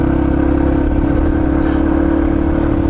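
A Yamaha TT-R230 dirt bike engine held at a loud, steady, rough rev, close by and alone, with no clear rise or fall across the clip.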